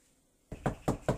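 A fist knocks on a house door: four sharp, close raps in quick, even succession after a quiet moment, with no voices.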